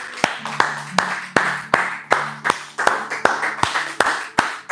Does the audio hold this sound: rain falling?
no